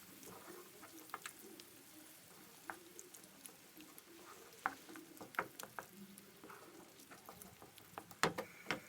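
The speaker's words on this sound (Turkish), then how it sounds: "Salçalarımız güzelce kavruldu." Tomato paste and hot pepper paste sautéing in a pan for a stuffed pepper dolma filling, giving a soft, steady sizzle with light spatula scrapes and small ticks, fairly quiet and close, with no talking.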